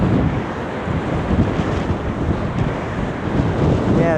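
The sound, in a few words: strong wind on a seaside promenade, Blackpool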